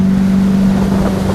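A boat motor cruises steadily across Lake Monduaran, a constant close engine hum with a strong steady tone, mixed with wind noise on the microphone and no talking.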